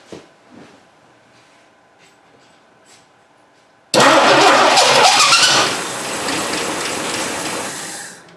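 A Dodge Dart engine, run on old gas and with no choke, cranks and catches suddenly, roaring loudly before settling into a rough, slightly quieter idle after a quiet lead-in.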